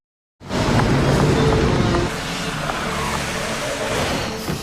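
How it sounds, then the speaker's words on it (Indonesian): A heavy tronton truck slides across a slick ice bridge in the Arctic while hauling a rescue mission for mine workers; a loud, sustained engine roar with grinding, scraping texture fills the whole clip after a brief silence. "truk mereka jadi selip."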